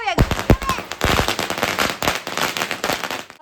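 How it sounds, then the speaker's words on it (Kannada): Diwali firecrackers going off at a house-warming celebration, a rapid string of sharp cracks and bangs, some very loud and near, with people talking and shouting between the bursts. "ಅಲ್ಲಿ ನಾವು ಪಟಾಕಿ ಹೊಡಿತಾ ಇದ್ದೀವಿ"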